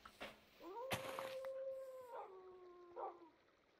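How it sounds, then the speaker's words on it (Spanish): Wolves howling in a video game, a single long wavering howl rising and holding steady before tapering off, with a brief sharp knock early on and a softer second call near the end, fairly faint. "Que no son los perros míos, sino que son lobos."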